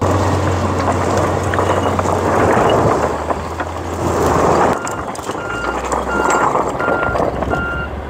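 A farm vehicle drives across a bean field, a steady loud engine drone and rumble with intermittent beeping tones, continuous and close throughout.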